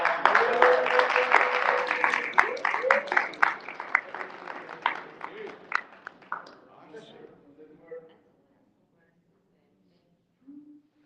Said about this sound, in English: So at this time, I want y'all to just give her a big round of applause.